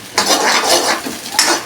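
Eggs beaten in a bowl for egg noodles, a quick run of brisk whisking scrapes and clinks against the bowl, close and fairly loud, with no voices.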